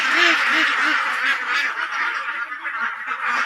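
About 80-day-old ducks on a floating duck farm quack loudly and continuously, several birds calling over one another close by, with a steady nasal chatter throughout.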